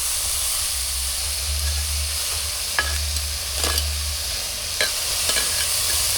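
Food stir-frying in a pan, with a continuous sizzle and steam hiss, a low rumbling hum underneath and a few sharp spatula scrapes and clinks.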